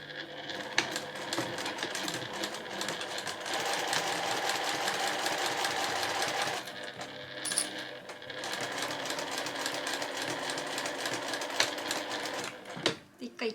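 Sewing machine stitching a fabric glasses case with a 7 mm seam, a close, rapid mechanical whir that runs in two long bursts separated by a brief pause, with a short clack at the end.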